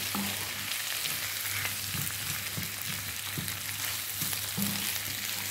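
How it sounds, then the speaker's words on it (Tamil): Potatoes frying in oil for a spicy Jaffna-style potato pirattal give a steady, even sizzle with soft intermittent clicks and pops of the pan, continuous and close with no talking. "இந்த உருளைக்கிழங்கு வந்து நல்லா பொரிய வரும்"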